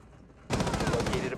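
Rapid automatic gunfire in Rainbow Six Siege, a sudden loud burst of evenly spaced shots that starts after a quiet moment and keeps going.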